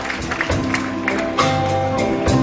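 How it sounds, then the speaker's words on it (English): An audience at a music event applauds, a dense wash of clapping with a few sharper claps standing out, fairly loud and close, with some crowd murmur underneath. "Give him a big round of applause, ladies and gentlemen"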